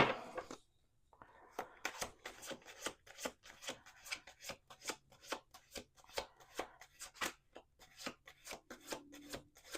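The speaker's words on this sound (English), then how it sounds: "Let me do one more shuffle to round this bad boy out." Tarot cards are shuffled in quick, repeated riffling bursts that come in a steady rhythm, close and crisp, with no talking.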